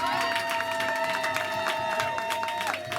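A church congregation at a thanksgiving service applauds and cheers, a dense spread of claps and voices over a sustained musical tone, steady throughout.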